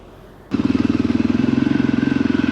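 A new Voge dual-sport motorcycle pulls away on its first ride, its engine note rising abruptly from near silence into a loud, steady, pulsing drone with rhythmic throbs, close to the rider, with no talk.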